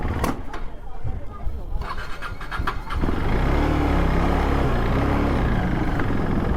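KTM RC 390 motorcycle engine misfiring and struggling at high rpm, a loud sustained rough roar from about three seconds on after quieter uneven running, with a voice talking over it.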